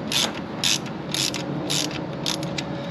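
A socket wrench ratchets on a post during a turbo blanket install on a 124 Spider. About five quick, close bursts of sharp metallic clicking sound over a faint mechanical hum, with no talking.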